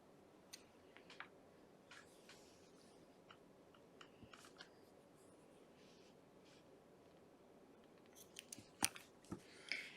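Scissors snip off a yarn tail during crochet work, faint and close, with a few soft clicks and light rustles over a quiet background, ending in a couple of sharper snips.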